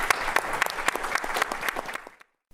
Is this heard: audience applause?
yes